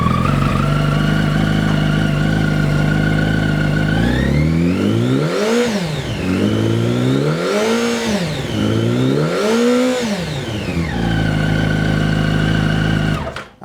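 Yamaha YZF-R1 sport motorcycle engine fires up and idles steadily, then revs three times in rising and falling sweeps before settling back to a loud, close idle; no talking.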